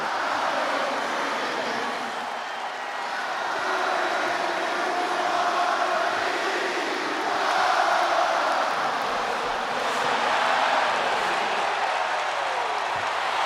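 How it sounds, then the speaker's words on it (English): Stadium crowd in the WWE 2K26 wrestling video game roaring a sustained ovation for CM Punk's entrance in his hometown of Chicago, a dense, steady wash of cheering and noise that swells slightly at times without letting up. "Just listen to this ovation for the Second City Saint"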